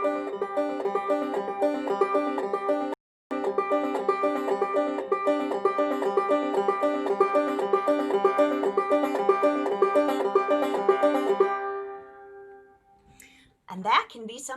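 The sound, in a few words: banjo tune played with thumb pull-offs on drone string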